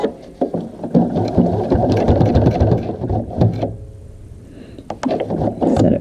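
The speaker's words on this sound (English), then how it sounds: "I have my double thread so that I'm going to get my nice top stitching." A sewing machine top stitches an adjustable strap with double thread, running in close mechanical bursts with rattling clicks and brief pauses between runs.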